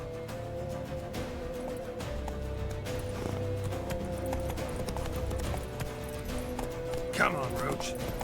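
Roach, the horse in The Witcher 3: Wild Hunt, trotting with steady rhythmic hoof clip-clops, a brief whinny near the end, under game music and someone talking.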